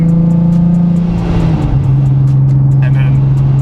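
A supercharged Nissan 370Z with a single-exit exhaust revs loudly, a deep droning engine note that drops and settles into a steady idle-like hum, with brief clicks near the end and no speech.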